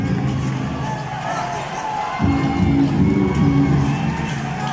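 Barangay Ginebra fans roar inside a packed basketball arena during Game 6 of the finals against TNT, a loud sustained crowd din with whoops and shouts that surges midway and stays heavy.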